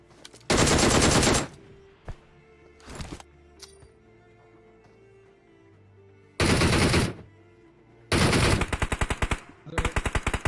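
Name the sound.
gunfire from a video game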